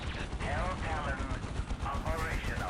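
Gunfire from the video game Dawn of War, with ranged units shooting in a large battle. Dense, continuous rattling bursts mix with a low battle rumble, loud and steady throughout, and a voice speaks over it.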